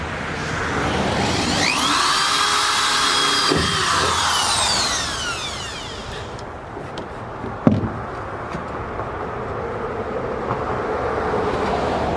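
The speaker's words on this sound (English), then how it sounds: "I'm about to drill into this" A power drill whines into the metal of a Chevy truck, rising in pitch over several seconds before stopping, followed by a sharp clank and a second quieter drilling pass close by.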